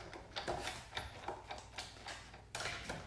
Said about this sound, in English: you're going to see the table wiggling and hear a bunch of banging and creaking